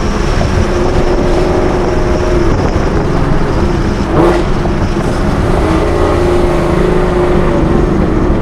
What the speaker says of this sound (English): Oh, those downshifts sound amazing.